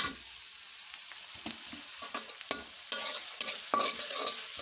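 Shrimp dropped into a hot pan and fried for a pumpkin dish, a steady hiss of sizzling oil with clinks and scrapes of stirring that grow louder as the shrimp hit the pan.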